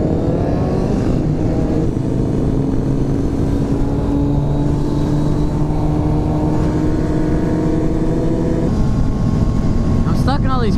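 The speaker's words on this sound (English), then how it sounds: "Shit ton of fucking bikes out here." Motorcycle traffic on a busy street during a rally event, heard from a rider among many cruisers: a loud, constant engine drone with overlapping exhaust tones and wind rumble, one bike revving up near the end.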